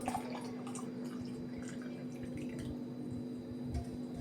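Cold water from a tap runs steadily in a quiet indoor space, with soft irregular drips and splashes over a low constant hum.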